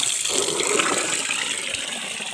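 Free fresh spring water from the mountain gushes and splashes steadily out of a pipe, a close, continuous watery rush with no talk.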